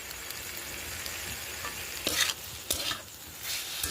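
Potato and pumpkin pieces fry in a pan with panch phoron and crushed dried chilli, a soft continuous sizzle punctuated by a few sharper stirring scrapes and spatula clatters close by.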